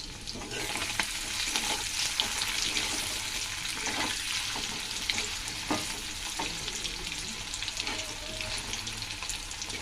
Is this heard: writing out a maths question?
no